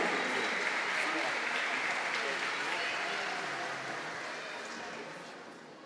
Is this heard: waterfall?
no